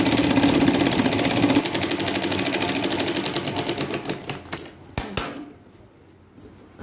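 Sewing machine stitching a blouse lining, a fast steady whirring rattle for several seconds that slows, stutters through a few final clicks and stops.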